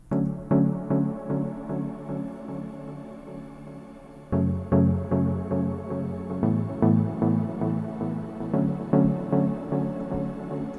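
A rhythmic synthesizer pattern plays with echo and heavy reverb, its repeated plucked notes smearing into a lush, washy tail. It grows fuller partway through and runs steadily with no talking.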